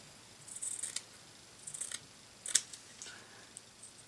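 Scissors trim excess cheesecloth folded into squares, giving a few quiet, separate snips and rustles of fabric spread across a hushed room.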